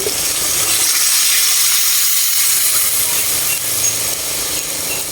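Water runs into a cooking pot of pinakbet with pork and crushed tomatoes, a loud steady rushing hiss lasting several seconds with no talking.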